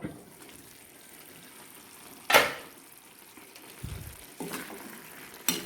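Vegetables stirred in a pan over a medium flame: a faint, steady sizzle of frying runs throughout, broken by a few sharp scraping strokes of the spoon against the pan.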